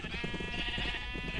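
Many sheep bleat together in a video game, a dense overlapping chorus from a huge pile of the animals, steady and fairly loud throughout with no talking.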